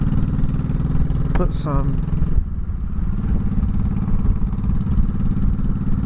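A 2004 Honda Sabre 1100 motorcycle engine idles with a low, steady rumble close by while someone talks over it, and a brief clatter comes partway through.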